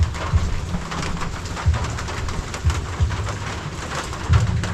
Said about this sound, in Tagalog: Walang katigil-tigil yung ulan.